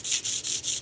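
Aluminum hand-sanded toward a mirror finish, giving close, loud rhythmic rubbing strokes, about four back-and-forth passes in quick succession with no talk.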